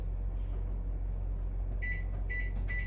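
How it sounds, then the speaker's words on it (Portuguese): A home microwave oven heating water runs with a steady, close low hum and whir throughout, and a few short electronic beeps sound near the end. "Eu vou colocar ela mais 30 segundos aqui no meu micro-ondas"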